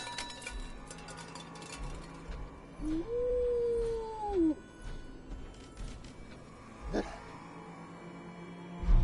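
The dog Dogmeat in the game Fallout 4 gives one drawn-out whining howl lasting about a second and a half, heard close over low ambient background noise, followed later by a short sharp knock.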